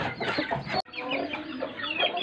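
Several hens cluck and murmur continuously nearby, a busy overlapping chatter with one brief sharp click partway through.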